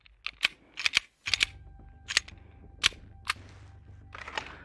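Rapid gunshots ring out during shooting practice: about a dozen sharp, muted cracks in quick irregular clusters, some in pairs, over a low hum, with no speech.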